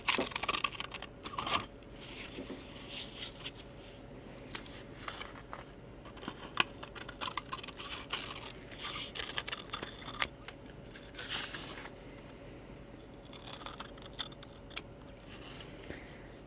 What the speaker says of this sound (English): and cut along the bottom, and now I'm cutting along